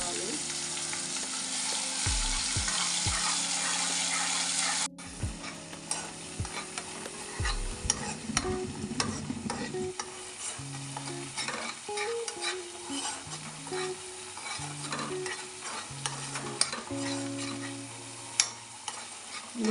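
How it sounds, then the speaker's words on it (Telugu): Onion and chili powder fry in a pan with a steady close sizzle, interrupted by repeated scraping and stirring strokes and occasional clinks of the utensil against the pan. "ఉల్లిపాయ కారం బాగా వేగుతుందండి మంచిగా"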